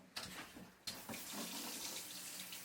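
Cold water gushes from a sink tap in a home bathroom. It starts with a splash, breaks briefly, then flows as a steady, fairly quiet hiss.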